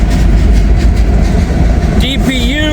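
A freight train with a DPU and a manned helper locomotive rolls past close by, a loud continuous rumble with rail clatter and a rising squeal near the end, with a voice briefly heard.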